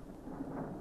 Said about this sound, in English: Terrible storm blowing here.